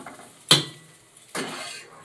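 Cooked chilli filling being scooped out of a wok, two distinct metallic scrapes and clinks of a utensil against the pan, close and alone.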